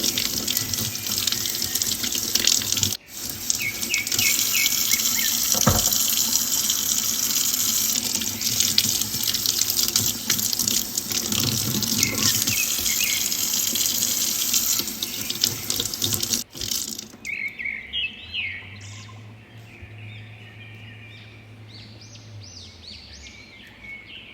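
Cactus fruit is rinsed under a running tap, a loud, steady splashing flow of water into a sink for about sixteen seconds, then cutting off abruptly, followed by faint bird chirps in the background.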